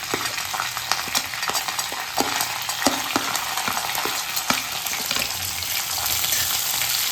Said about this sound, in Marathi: हिरव्या मिरच्या पण चांगल्या फ्राय करून घ्यायच्या आहे तुम्हाला, त्या कच्च्या ठेवायच्या नाही आहे.